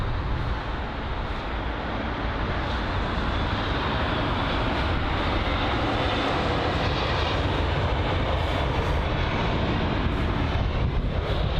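A British Airways Airbus A320neo airliner landing at London Heathrow, a loud, steady broadband engine roar sustained throughout without pause, close and dominant.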